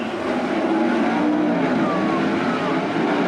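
A field of race cars in the Toyota Dash sprint car event at the Brad Doty Classic, engines roaring together in a dense, loud, continuous wall of sound as they accelerate from the green flag.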